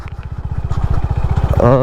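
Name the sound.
Honda Highness CB 350 motorcycle riding off-road at 30-35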